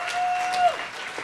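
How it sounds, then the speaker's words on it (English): An audience at a national business summit for small enterprises and co-operatives applauds, a steady wash of clapping heard from across a hall, moderately loud and sustained throughout. "let's give her another round of applause"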